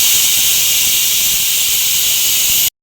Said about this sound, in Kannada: ಸೊ ಫೈನಲಿ ವಿಷಲ್ ಕೂಡ ಬಂತು.